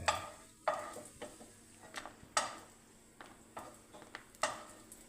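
Cashew nuts frying in ghee in a pan while a spoon scrapes and stirs, giving a series of sharp metallic clinks and scrapes over a faint sizzle, close and alone.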